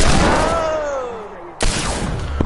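Two loud, close rifle shots in a shooting video game, the first ringing out and fading over a second and a half before a sharp second crack cuts in, with a voice in the background.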